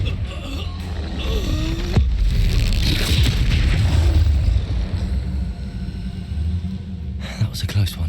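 Spell blasts in Hogwarts Legacy combat, with Expulso, Flipendo, Incendio and Confringo casts producing heavy booms, rumbles and bursting pops that crowd together loudly, then trail off into lighter crackles.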